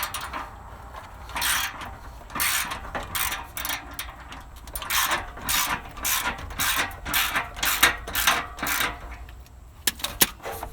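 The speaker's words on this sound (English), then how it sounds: "I'm going to tighten these nuts down first" Hand tools tighten the muffler nuts under a 1994 Chevrolet Astro van, giving repeated short scraping, ratcheting bursts in an irregular rhythm, close and fairly clear, with no talking.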